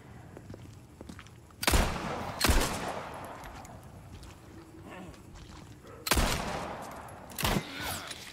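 Pistol fire in Resident Evil 4 Remake: four sharp, loud shots in two pairs, with footsteps and quiet game ambience between them.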